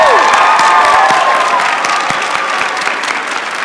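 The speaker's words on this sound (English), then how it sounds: "let's give a round of applause for all the mothers out there" A large outdoor crowd at a university biology commencement ceremony applauds mothers in the audience, with loud, continuous clapping mixed with scattered cheers and whistles filling the space.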